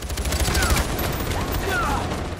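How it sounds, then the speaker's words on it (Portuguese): Gunfire strikes the player during a tense airport assault in Far Cry 4, a dense, continuous fusillade of overlapping shots with whizzing tones, steady and loud throughout. "Tô levando tiro até cansar aqui"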